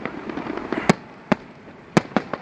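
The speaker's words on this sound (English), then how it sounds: "You hear the fireworks echoing off the buildings here" Fireworks at the Borgata burst in sharp, loud cracks, four distinct bangs over a couple of seconds with fainter pops between, each echoing off surrounding buildings.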